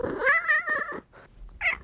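A cat gives a drawn-out, wavering cry that rises and falls for about a second, then goes quiet. A second, shorter call follows, fairly close and loud, with nobody talking.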